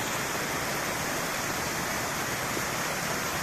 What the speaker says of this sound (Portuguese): Olha as cachoeiras d'água aqui, ó.